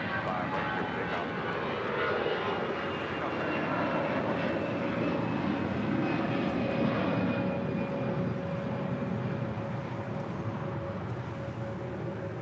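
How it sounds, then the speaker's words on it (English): An Air Tahiti Nui Boeing 787 Dreamliner arriving from Papeete roars steadily on final approach to touchdown at LAX, a loud, continuous jet-engine whine and rumble with a sustained high tone, close by throughout. "Second Air Tahiti Nui Dreamliner coming in from Papeete, about to touch down and 25 left."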